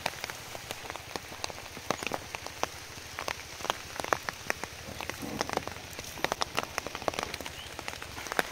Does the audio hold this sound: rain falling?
yes